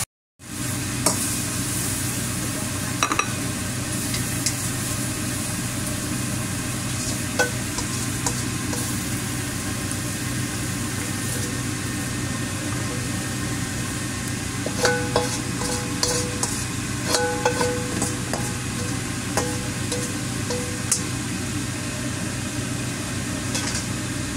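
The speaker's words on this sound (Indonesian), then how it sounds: "yaitu tumis tomat dan telur ya" Tomato and egg stir-fry in a pan in a home kitchen, giving a continuous loud sizzle with scattered clinks and scraping bursts of stirring, heard close and with no talking.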